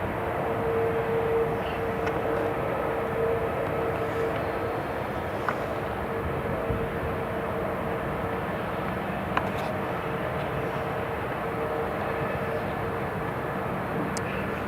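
An Italian Air Force C-27J turboprop transport at Newcastle International Airport gives off a steady, even engine drone with a thin tonal whine, continuous and fairly distant, with faint clicks over it.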